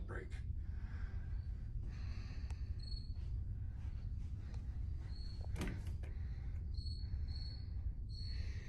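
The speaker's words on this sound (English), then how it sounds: "Listen to those crickets." Crickets chirp steadily at night in the background, thin and moderately faint, while a voice speaks quietly and occasional creaks and thuds like a door sound nearby.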